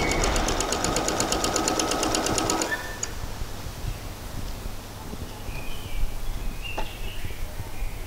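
A sewing machine runs steadily, stitching a seam on a pair of shorts at a half-inch seam allowance, its rapid rhythmic needle chatter close and loud for nearly three seconds before stopping, leaving quiet room noise and faint handling clicks.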